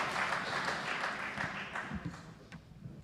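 Audience applause at Tangaza University's bicentenary event for Cardinal Lavigerie, a dense steady patter of clapping from a crowd lasting about three seconds, gradually thinning toward the end.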